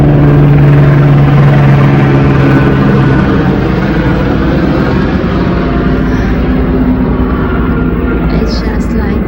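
A helicopter flies over a dense city, its steady loud rotor and engine drone filling the air continuously above a backyard garden, with traffic rumble mixed in.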